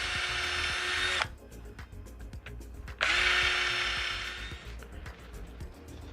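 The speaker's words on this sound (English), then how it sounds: "I've got 3 spots right here that I want to drill the holes in." A small electric drill bores holes while a homemade hand sander is being built, with two distinct whining bursts. The first runs just over a second and the second is about two seconds, separated by a quiet gap with faint handling noises.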